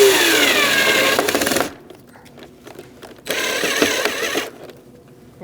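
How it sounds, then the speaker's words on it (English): Self-drilling screws driven with a Phillips screwdriver into the plastic interior door panel of a 2008-2014 Mercedes-Benz C300, giving close, gritty ratcheting and grinding in two bursts of about a second and a half each, separated by a quiet pause. "they're self-drilling into the plastic using a Phillips head screwdriver"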